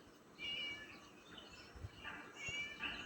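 Faint cat meows sound twice in the video game Scary Teacher 3D, a short high call early on and another near the end, over a quiet background with no talking.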